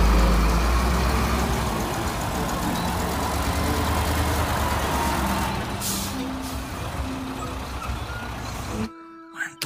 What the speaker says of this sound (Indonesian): Wih, truk molen.